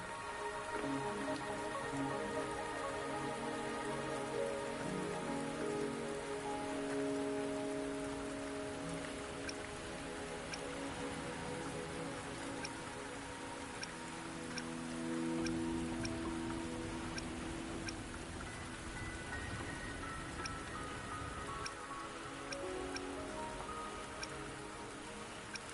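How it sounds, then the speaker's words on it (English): Rain pattering in the video game Wuthering Waves, a steady close shower with scattered drips over a soft tonal background, continuing evenly with no voices. "Are you trapped here by the rain?"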